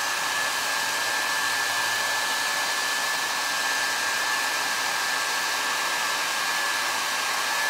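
A hair dryer runs steadily and loudly throughout, drying a freshly painted plaster picture frame, with a constant airy roar and a thin high whine and no talking.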